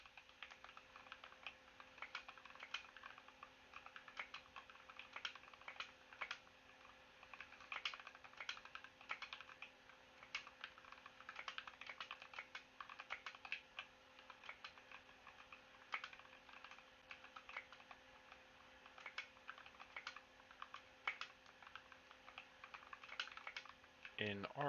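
Mechanical keyboard with lubed Red Ink v2 linear switches and GMK keycaps being typed on during a typing game, a quiet, fast, steady stream of soft keystroke clacks with occasional louder taps.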